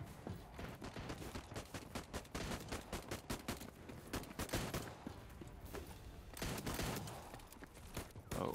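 Enemy gunfire rattles continuously in Voidtrain, dense rapid shots and volleys crackling close and loud throughout with little pause.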